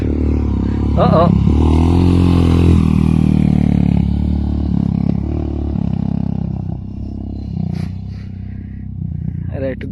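A Honda FT411 motorcycle accelerates and slides on a flat dirt track. The engine note is loud and buzzing and swells near the start, then eases and fades over ten seconds.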